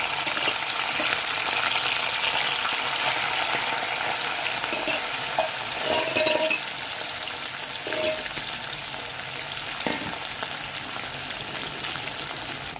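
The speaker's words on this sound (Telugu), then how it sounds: "మెత్తలు ఫ్రై అవుతున్నాయండి" Dried fish frying in oil in a kadai: a dense, continuous sizzle up close, with occasional light clinks and scrapes of a spatula against the metal.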